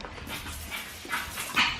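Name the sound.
dog whimpering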